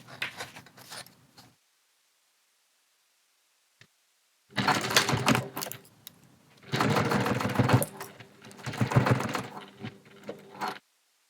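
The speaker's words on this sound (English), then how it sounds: "I will sew with a 1/8 inch seam allowance along the top edge, followed by the bias tape and the bottom edge" A sewing machine stitches a 1/8 inch seam along the top edge of a fabric planner, running in several loud bursts of rapid mechanical whirring separated by pauses, close up with no voices.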